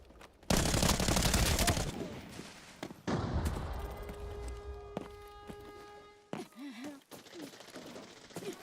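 Sniper and rifle gunfire in the online shooter game SOLO, a loud burst of rapid shots followed by further sharp cracks and ringing tonal game effects, with brief footsteps and background noise.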